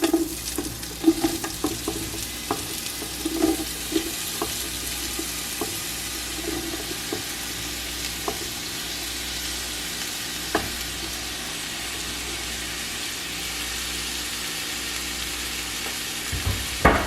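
Chopped vegetables for fried cabbage with spicy sausage and shrimp fry in oil in a pot, a steady crackling sizzle punctuated by occasional sharp clanks and scrapes of stirring, no voices.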